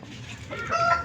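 Chickens cluck close by while a hen lays eggs, a brief run of soft, rising clucks with a sharper call at the end.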